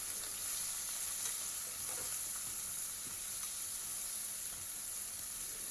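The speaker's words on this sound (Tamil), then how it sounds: "அதையும் போட்டு லைட்டாக அந்த எண்ணெயிலே கொஞ்சம் வதக்கிடலாம்" Onion and sprouts sautéing in oil in a pan, giving a continuous, even sizzle and hiss with faint stirring scrapes, steady and moderately quiet with no talking.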